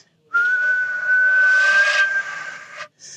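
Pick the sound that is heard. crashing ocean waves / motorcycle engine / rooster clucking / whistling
whistling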